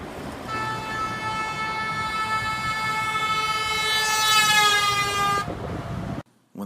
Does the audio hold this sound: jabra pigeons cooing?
no